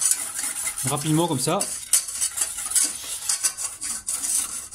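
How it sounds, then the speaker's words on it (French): Milk and flour whisked together in a bowl, quick rhythmic metallic scraping and tapping of the whisk against the sides, with a brief spoken remark partway through. "dans un premier temps, je vais mélanger avec le fouet"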